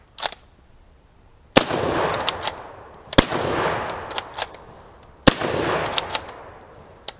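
Turk Mauser rifle firing, heated from rapid shooting: three loud, sharp gunshots spaced about a second and a half apart, each trailing into a long rumbling echo, with one shot coming late from a hang fire.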